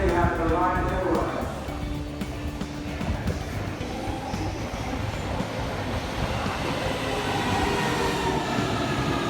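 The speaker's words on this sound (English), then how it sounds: "Safely back on the train." Inside a moving passenger train, a steady rumble of wheels on track with a low roar and occasional rattles, continuous and fairly loud, with a brief faint tonal hum early on.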